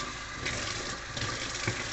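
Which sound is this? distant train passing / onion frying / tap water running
tap water running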